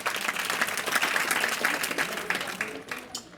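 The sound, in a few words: audience clapping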